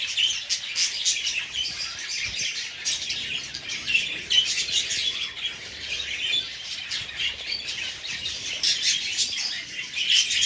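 Many small birds chirp and tweet continuously in an aviary, a dense busy chorus of high calls with occasional wing flutters, close and fairly loud throughout.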